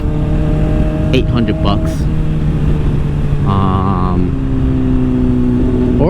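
A Honda CBR600RR motorcycle rumbles through its exhaust with steady harmonic engine tones and a few mild revs, heard up close while someone talks over it.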